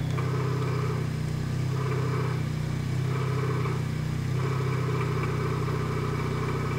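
A 1999 Toyota Corolla 1.8 idles close by with a steady low engine hum, overlaid by a faint, regular knocking from a faulty power steering system, recurring about once a second with no talk.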